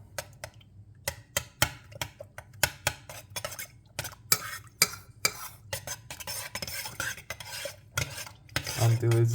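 A utensil stirs glutinous rice powder into cold water in a pot. Rapid rhythmic scraping and clinking against the pot bottom runs steadily throughout, close and moderately loud.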